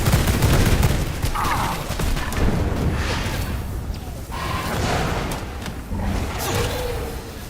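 Pistols firing in the vampire survival game V Rising, a dense, loud spray of rapid shots and impacts with whooshing effects over a busy game soundscape, continuous throughout with no clear speech.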